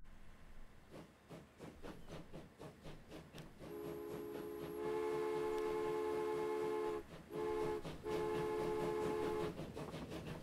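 A passenger train in Transport Fever 2 rumbles along with a rhythmic clatter, then sounds a long, loud multi-tone horn, breaks off briefly and blasts it again. No voices are heard.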